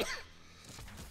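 A single short cough bursts out near the end of a quiet second, close and breathy, preceded by a faint intake of breath while a gamer plays.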